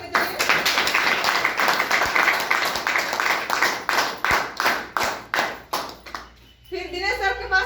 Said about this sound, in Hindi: एक बार इन तीनों लीडरों के लिए जोरदार ताली होनी चाहिए